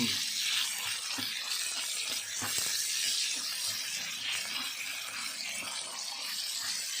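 Pork sizzles and fries in a pan, a constant hissing crackle that holds steady throughout with a few light clinks and knocks of utensils, with no one talking.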